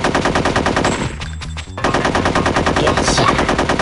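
Rapid automatic gunfire in the N64 game Conker's Bad Fur Day, Heist multiplayer mode, loud and continuous with a brief drop in the middle before the burst resumes.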